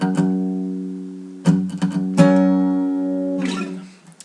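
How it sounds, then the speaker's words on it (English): A guitar chord with the in-between strings, the high E and the third string, muted rings out clearly. It is struck three times in close succession and sustains between strikes, and a scrape of muted strings comes at the end. "I'm muting these in-between strings, the high E and the 3rd string, and so that's the sound you should end up with"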